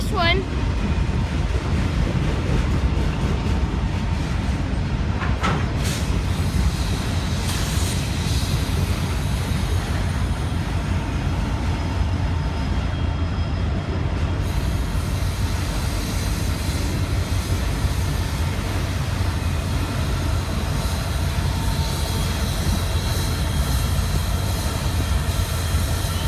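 A Norfolk Southern freight train with two locomotives rumbles past, a loud, continuous low roar of engines and rolling cars close by, with a brief horn-like tone early on and a person talking over it.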